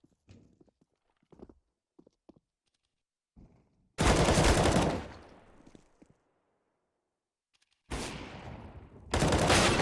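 CS:GO gunfire: after scattered light ticks and taps, a loud burst of rapid shots erupts and then trails off, followed later by two more sharp, loud volleys close together.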